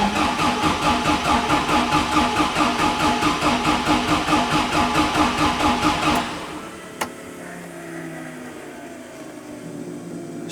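A 700-mile new-old-stock Ford Escort RS Cosworth engine cranks with rapid rhythmic pulsing for about six seconds, then catches and settles into a quieter running idle, with a sharp click partway through.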